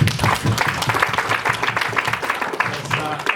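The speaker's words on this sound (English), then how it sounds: "Let us clap for mine." An audience at a worker co-op cohort gathering claps steadily and continuously, dense applause throughout with some voices mixed in.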